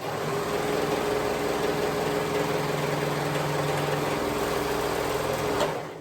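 A serger sewing machine stitching woven fabric hums steadily for several seconds, its motor droning at an even pitch with a rapid mechanical stitching rhythm, close and uninterrupted.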